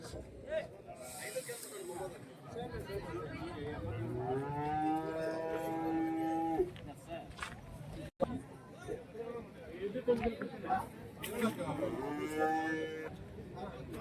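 At a busy cattle market for large native draught and plough bullocks, a cow lets out a long, loud low moo close by, with a second call later, amid constant chatter of people and crowd noise.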